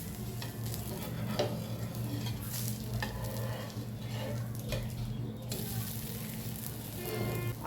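Ragi amboli, a finger-millet pancake, frying in oil on a pan over medium gas, with a steady close sizzle and occasional soft scraping or stirring sounds throughout, no talking.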